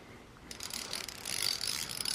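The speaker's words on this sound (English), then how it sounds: "This was an old ratchet that we had from probably about the 80s, and it was locked up, sprayed some in there, went back and forth a couple times" An old 1980s ratchet, freshly sprayed after being locked up, worked back and forth in a short quick burst of close mechanical clicking that grows slightly louder toward the end.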